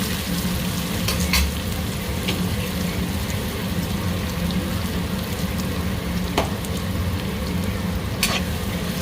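Onions fry in a pan for rohu fish curry with a continuous close sizzle and a few short scraping stirs, no voices over it.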